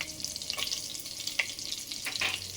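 About a tablespoon each of chopped ginger and garlic sautéing in a hot pan, heard as a steady close sizzle with light stirring scrapes and a few sharper spatters, with no talking.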